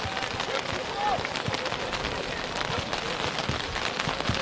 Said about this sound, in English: the rain is not dissipating at all